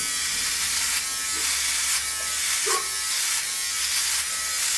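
A Philips Norelco OneBlade electric shaver fitted with a 5mm comb head trims hair with a steady, close buzzing whir, its pitch dipping slightly with each pass.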